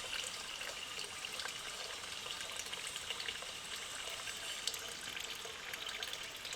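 Water poured into a container in a fraction model for a math lesson, a steady close trickle and splash running without a break.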